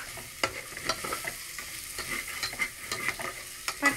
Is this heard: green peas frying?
yes